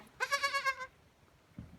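A newborn Kiko goat kid lets out a single drawn-out bleat, close and fairly clear with a wavering, pulsing quality, followed by near silence and a faint low thump.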